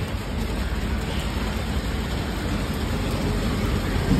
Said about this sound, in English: It's raining and I haven't carried an umbrella.